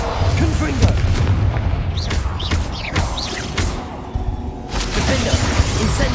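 A Confringo fire spell in Hogwarts Legacy lands as booming, crackling blasts amid a continuous roar of combat noise, with a voice calling out spell names over the din.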